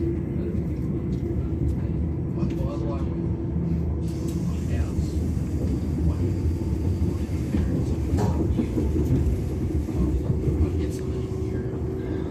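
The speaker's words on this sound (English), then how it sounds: "the motors that you hear sounds very similar to a Waratah train" Electric motors of an NSW Intercity Fleet train heard from inside a moving carriage near Wondabyne, a steady low rumble and hum with faint rising motor tones over constant rolling noise.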